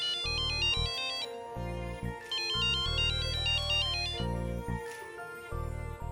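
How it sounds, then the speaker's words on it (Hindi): A melodic electronic phone ringtone plays loudly and continuously, its bright looping tune repeating over a steady beat. "फोन उठाओ ना"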